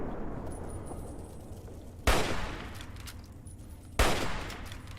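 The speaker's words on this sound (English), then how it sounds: "Some good shooting there, buddy." Gunfire in Fallout 3, two loud, sharp shots spaced about two seconds apart, each with a short decaying tail over a low ambient rumble and faint high whines.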